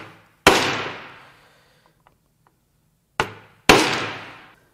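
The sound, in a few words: hammering a center punch into an engine part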